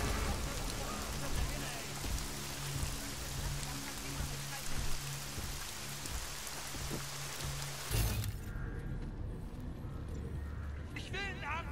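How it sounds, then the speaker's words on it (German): Steady rain patters and hisses in the video game Deus Ex Mankind Divided, a dense continuous wash that cuts out abruptly near the end into quieter ambience. "Ach, okay, das ist nur der Regen."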